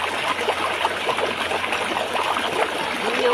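River water flows steadily along the Castillejos River in Zambales, a continuous close babbling and trickling stream sound with no clear talk.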